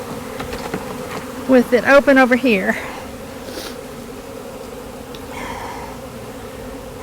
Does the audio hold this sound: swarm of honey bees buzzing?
yes